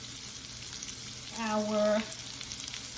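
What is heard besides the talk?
onions sizzling in a pan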